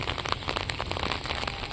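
Rain falling steadily outdoors, a dense even patter of drops on surfaces close by, continuous with no talk.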